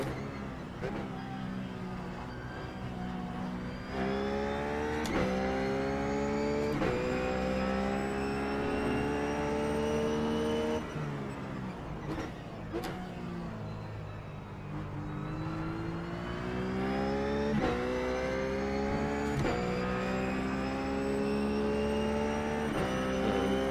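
A Ruf race car lapping Daytona in iRacing, its engine note sweeping up and down through repeated gear changes, loud and continuous with short breaks between pulls and no talking.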